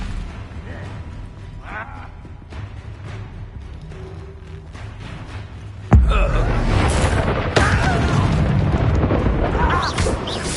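Bombarda explosion spell cast in the Hogwarts Legacy video game: after a quieter stretch, a sudden loud blast erupts, followed by a sustained rumbling roar and a second burst, with a brief shouted voice.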